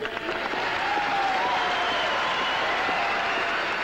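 Crowd applause at a public hearing on the Presidential Parkway, a dense sustained burst of clapping from a packed room with some voices mixed in, steady and loud throughout.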